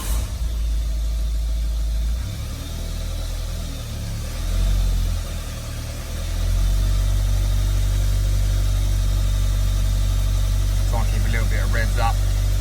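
A car engine cranks and catches, then settles into a steady, loud idle hum; a voice speaks briefly near the end.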